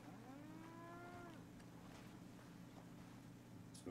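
A single cow lets out a drawn-out moo in Red Dead Redemption 2 on a farm, a clear rising call lasting over a second, followed by quiet ambience.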